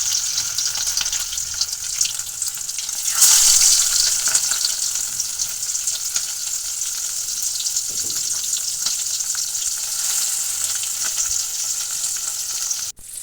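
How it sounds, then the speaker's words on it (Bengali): Turmeric-coated tiger prawns frying in hot oil, giving a steady bright sizzle and spatter that swells louder for a moment early on and then stays close and constant throughout. "হলুদ দিয়ে মেখে রাখা চিংড়ি মাছগুলো গরম তেলে ভেজে নেব।"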